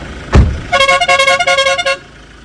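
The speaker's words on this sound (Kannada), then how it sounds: "ಹಾರ್ನ್ ಸೌಂಡ್ ನಾ ಹತ್ತು" A modified Scorpio's horn sounds close and loud after a single thump: a rapid run of about a dozen bright, multi-tone honk pulses lasting just over a second.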